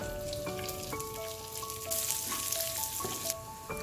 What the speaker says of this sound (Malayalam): ഇനി ആയിരിക്കുന്ന ഇഞ്ചിയും വെളുത്തുള്ളിയും കരിയാപ്പിലയും കൂടി ഇടുവാണേ